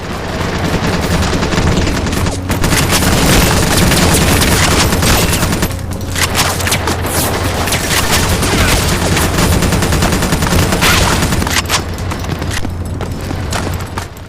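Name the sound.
gunfire in a mobile FPS video game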